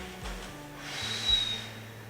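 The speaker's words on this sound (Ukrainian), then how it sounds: "Вдих. Видих." A person breathes in and out slowly through the nose while doing a lower-back pain exercise, producing soft, close breaths and a snort-like exhale in a quiet room.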